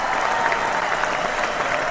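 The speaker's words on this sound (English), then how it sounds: "we always give them an astounding round of applause" Steady, full studio audience applause for guests on a hockey talk show, an even wash of many hands clapping throughout with no talk over it.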